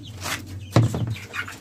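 Chickens cluck near the microphone at feeding time, with a sharper squawk in the middle among a few softer clucks and no talk.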